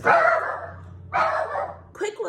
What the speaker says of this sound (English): in the background barking up a storm